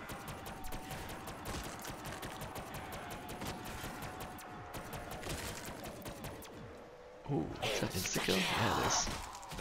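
Rapid weapon barrage in Black Ops 3 Zombies on The Giant map: a fast, crackling stream of shots rattles on fairly quietly, then a louder burst hits near the end.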